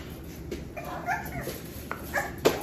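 Young puppies whimper and yip in short, high, thin cries, several bursts scattered across the moment, fairly close against a quiet background.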